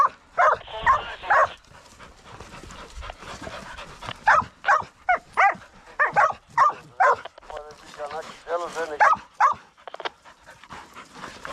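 Hunting dogs on a wild boar hunt bark in repeated loud, close bursts with some whimpering and panting, while people's voices are heard alongside.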